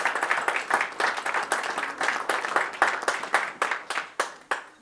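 Applause at the opening of a painting exhibition in Folkestone Town Hall, sparse and uneven individual claps close by, with pulses that thin out toward the end.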